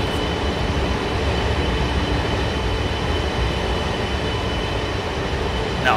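A Chinese CRH2A high-speed bullet train running in the simulator game Train Sim 2015, a steady, loud rumble of rolling wheels and rail noise that continues with no break and no talking.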